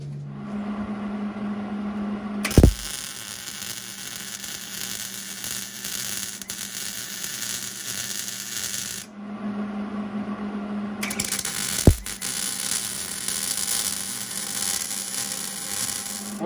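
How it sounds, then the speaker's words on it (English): A roll bar for a roadster is welded in two long, steady buzzing, crackling runs, separated by a short pause, with a sharp knock near each restart. "Pull this out and weld it for real."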